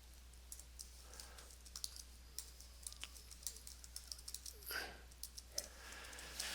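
Light, scattered clicks of typing on a computer keyboard in the NetBeans IDE, quiet and intermittent over a steady low hum, with keystrokes bunching up briefly near the end.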